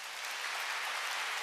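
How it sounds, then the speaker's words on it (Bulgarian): Sustained applause from a concert audience for a singer performing with the Sofia Philharmonic Orchestra, steady and dense throughout. "Аплодисменти за тях."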